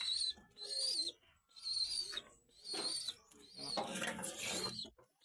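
Pigeons coo close by in several rounded, repeating bursts with short pauses between, alongside brighter chirping calls.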